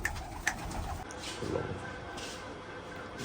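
Pigeons coo softly nearby, low burbling calls against a quiet background with a couple of light taps.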